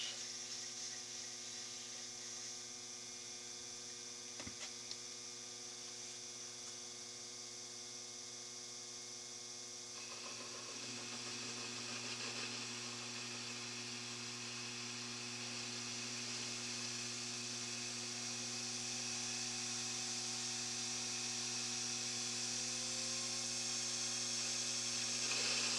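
A lathe turning at 900 RPM while taking a 40 thou cut off the diameter, heard as a steady machine hum and whine that grows slightly louder and brighter partway through, with no talking.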